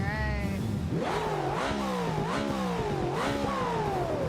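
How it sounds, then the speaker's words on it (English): A loud car engine revving hard in the BeamNG driving game during a drift race, climbing through repeated rising pitch sweeps that break off at each gear shift, close and continuous with no talk. "That loud car's not gonna scare me, buddy."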